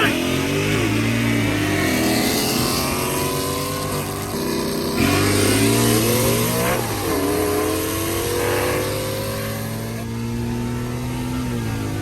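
A nitrous-fed Ford Mustang roars loudly and continuously through a race pass, the engine note climbing through repeated gear changes with a brief shift break near the middle. A voice counts over the engine.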